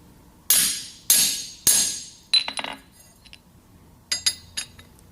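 Hammer taps on a carbide stud being set into a 17/64 hole over an anvil: three sharp metallic strikes, then a few lighter, quicker clinks, close and alone.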